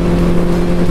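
A Benelli 600 motorcycle engine running at high speed on the open road, a loud, steady droning hum with strong low tones and wind rush and no break.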